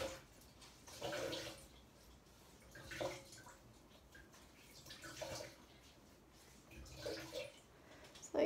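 Water sloshing in a bucket as an old cloth is dipped and wrung, several soft splashing surges spaced a couple of seconds apart, fairly quiet and close, with no talk.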